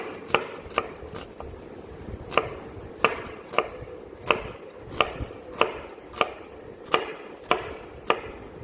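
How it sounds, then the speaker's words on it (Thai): A knife dices ingredients for a fresh salad on a cutting board, about a dozen crisp, close chops in a steady, slightly uneven rhythm, each one a sharp tap. "เราจะหั่นเต๋านะคะก็คืออย่างนี้"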